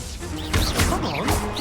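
Hogwarts Legacy spell effects, an Accio pull and an Incendio fire blast, burst out as loud whooshing crashes and bright sweeps in quick succession, with game chirps layered underneath at close range.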